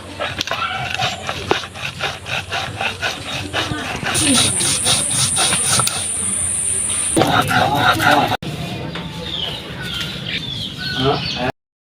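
Cashews, pistachios, peanuts, fried onions, star anise, bay leaves and garam masala being ground into a paste for beef biryani, a repeated scraping grind with a shrill whine midway, close and fairly loud.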